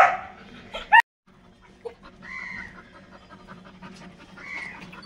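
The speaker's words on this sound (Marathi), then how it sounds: "हा आमचा डॉगी आहे" A pet dog named Lucky, tied up outside at a village home, gives a few loud pants and a sharp bark near the start, then goes quiet with faint background noise and distant fowl-like calls.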